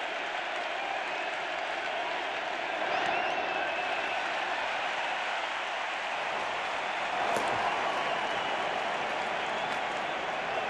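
Baseball stadium crowd at an ALCS Game 5 between Cleveland and the Blue Jays cheering after Donaldson's hit, a dense, sustained roar of voices and applause that swells slightly near the end, with no talk over it.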